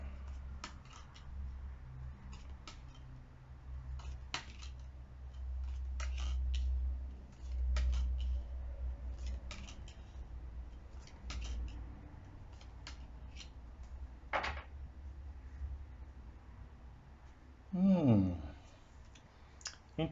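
Crisp papery clicks and riffles of tarot cards being shuffled, coming in short bursts with pauses, close up, with a low background hum.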